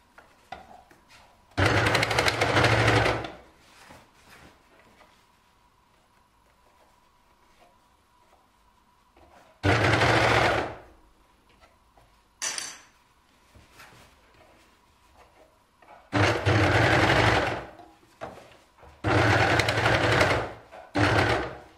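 An overlock sewing machine stitches and trims legging fabric in several loud, fast whirring bursts of a few seconds each, separated by quiet pauses with faint handling noises.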